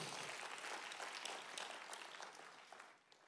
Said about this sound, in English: Let us clap hands for Mama Maureen and Papa Rocco.